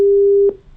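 Telephone busy tone after a call is cut off during a live phone link-up: a steady electronic tone holds for about half a second, then breaks off, loud and alone.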